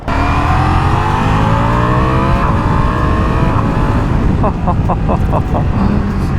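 A 2024 Ducati Diavel V4 motorcycle engine pulls hard under acceleration, its loud rising drone climbing through the revs up close, with a few quick gear changes and steady wind rush behind it.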